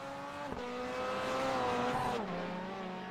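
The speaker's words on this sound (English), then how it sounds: "Sounds like a Subaru going past." A Subaru race car sweeps past on a circuit, its engine note climbing loudly as it nears and then dropping in pitch as it pulls away, a single close pass lasting a few seconds.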